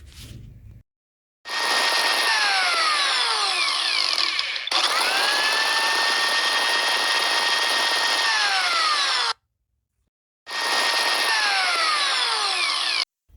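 An electric chopper grinds herb leaves and stems in loud close bursts. Its high motor whine rises and falls in pitch across two long runs, with short silent pauses between them and a third burst at the end.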